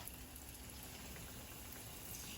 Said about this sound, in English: Yeah, that's frying up.